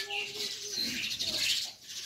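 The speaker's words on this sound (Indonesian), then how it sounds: "Jalak suran warnanya putih, matanya hitam ya." A white Javan pied starling calls with a short run of bright chirps and whistled notes, close and fairly clear against a quiet background.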